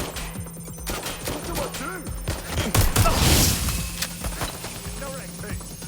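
Gunfire in the Watch Dogs Legion video game, a dense burst of rapid shots swelling to a loud cluster near the middle, mixed with game sounds and a voice speaking over the action.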